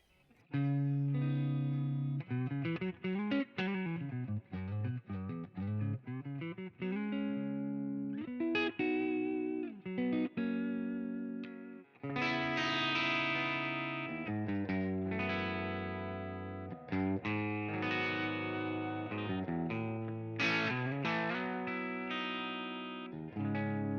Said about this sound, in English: Do you want me to show you some clean tones